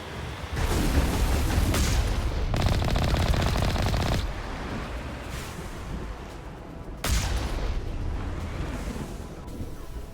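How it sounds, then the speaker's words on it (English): Artillery in the game Mass Effect pounds continuously, loud dense rumbling bursts and rapid booming fire that swell and ease in several waves with no pauses. "There's the artillery that's keeping the Normandy at bay."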